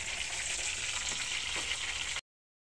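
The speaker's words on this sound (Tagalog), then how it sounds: "ipiprito po natin muna para hindi po madurog yung laman ng tulingan" Pieces of tulingan, bullet tuna, fry in hot oil with a steady, loud hissing sizzle that holds constant throughout, then cuts off abruptly.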